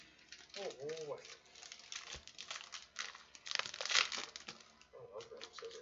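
Scissors cut open a trading card pack, with crinkly plastic wrapper rustling in short bursts, loudest near the end. A person talks over part of it.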